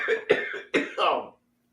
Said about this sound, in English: Of course he's gonna cough.